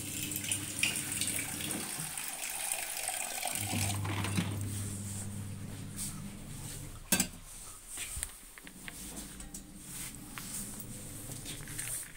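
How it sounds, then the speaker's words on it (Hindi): Running tap water streams steadily into a container, the pitch shifting as it fills, with a brief clatter of dishes partway through. "पानी ऑलमोस्ट भर चुका है"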